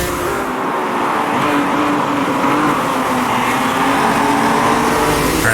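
A race car engine howls at full throttle up a mountain straight at Bathurst in the Automobilista 2 racing game, a loud continuous drone with the pitch climbing steadily and no speech.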